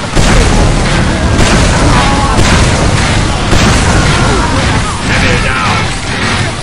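Rocket explosions in the shooter game Team Fortress 2's Mann vs. Machine mode, loud, heavy booms and crashes stacking densely over one another with mechanical clatter, while players talk beneath the chaos.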